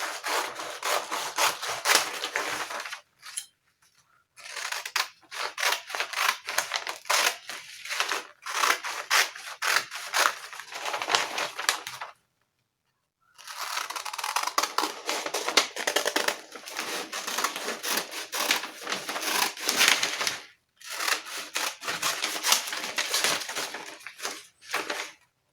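Scissors cut through fabric for a pajama blouse, steady crisp snipping and crunching in long runs, broken by a few short pauses, close and fairly loud, with no talking.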